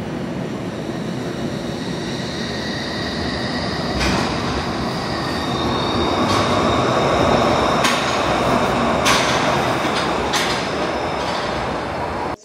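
A Glasgow Subway train rumbles steadily through a station, with metallic squeals and rattles of wheels on rails rising and falling over the continuous roar.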